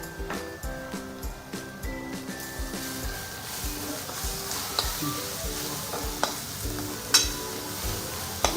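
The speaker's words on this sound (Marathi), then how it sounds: "मसाले मस्त असे आपण एकजीव करून घेणार आहोत" Pav bhaji masala, garam masala and salt being stirred together in a hot pan, a spoon scraping in a steady rhythm over a continuous sizzle, close with sharper clinks toward the end.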